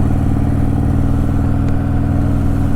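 A Harley-Davidson Softail Sport Glide with a Stage II engine pulls in second gear, giving a loud, continuous, close-up engine drone with a steady low pulsing throb.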